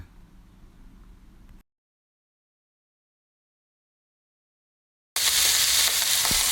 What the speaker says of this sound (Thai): ครับเราก็ตัดมาที่ผัดได้สักพักแล้วนะครับ จากนั้นเราก็เคี่ยผักกาดดองไว้ข้าง กระทะได้เลยนะครับ